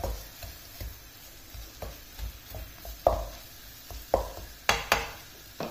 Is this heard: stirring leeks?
yes